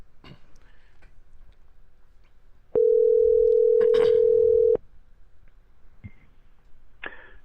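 A steady telephone dial tone hums for about two seconds, flanked by scattered clicks and small handling noises.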